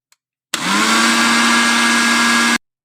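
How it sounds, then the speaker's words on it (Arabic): A blender runs loud and steady for about two seconds, its motor whirring with a high tonal whine as it processes sesame seeds and peanuts with a pinch of salt and a splash of oil for homemade tahini. No one speaks. "نضربها الأول مع رشة ملح عشان الطحينة بتاعتنا الطحينة متفصلش معانا"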